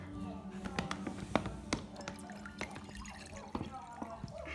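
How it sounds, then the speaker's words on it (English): Water is poured into a German Shepherd's food bowl of mixed puppy food, a soft uneven trickle and splash mixed with small clinks and knocks, fairly quiet and close, with voices faintly present. "she also is just going to have some water."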